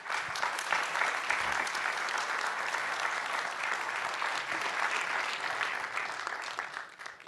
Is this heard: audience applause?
yes